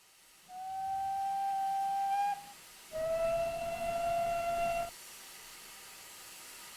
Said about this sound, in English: That was a long and short whistle.